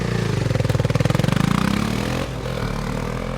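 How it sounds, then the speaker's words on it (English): A motorcycle engine on its final test ride after workshop servicing revs in a loud, rapid pulsing throb, then drops to a steadier lower running note near the end. "A final test ride ensures the motorcycle is working properly."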